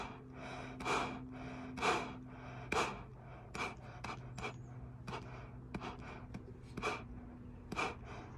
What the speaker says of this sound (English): you can see those inhalation exhalation valves opening and closing as I'm breathing in now